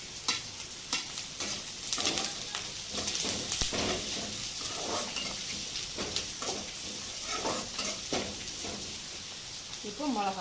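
Sliced onions, dried red chillies and curry leaves with chana dal fry and sizzle in a pan for carrot-and-beans poriyal, a steady broadband crackle broken by stirring scrapes, with a few faint voice traces underneath.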